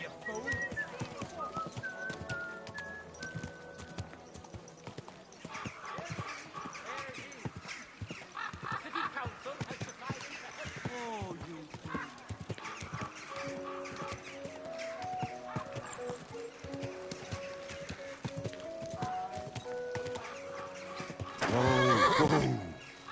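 A horse neighs and whinnies repeatedly while hooves clip-clop close by, with a louder burst of noise near the end.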